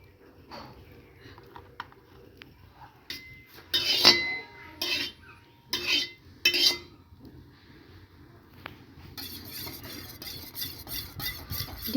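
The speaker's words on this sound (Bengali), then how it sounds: "ডিমটা আমরা চামচের মধ্যে ভালো করে ঘুরে নিচ্ছি।" A spoon stirs beaten eggs in a dish while eggs are being fried with chopped onion, giving a series of sharp metallic clinks and scrapes, close and fairly loud, then a steadier fast rattle of whisking toward the end.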